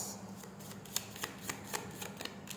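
Tarot cards being shuffled by hand, a fast run of papery riffles and soft slaps close to the microphone over a low steady hum, with no talking.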